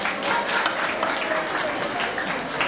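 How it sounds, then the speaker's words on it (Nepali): An audience at a bhajan group competition event applauds steadily, a dense wash of clapping that continues evenly throughout. "खै जोरदार ताली पहिला ताली बजाएर।"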